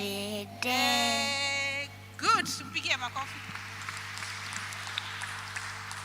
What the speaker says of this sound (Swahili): Good, mpigie makofi.